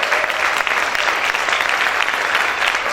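A church congregation claps loudly and steadily, a dense, continuous burst of applause filling the room.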